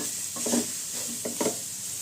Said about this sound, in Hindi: और इसको हाई फ्लेम पे ही मिला लीजिए, तभी आपके सब्जियों में जो पानी है वो भी छूट के अच्छी तरह से भून जाएगा